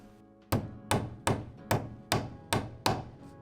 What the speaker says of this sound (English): I'm going to just hammer this down a little bit more